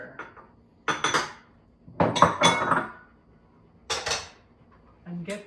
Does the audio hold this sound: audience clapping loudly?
no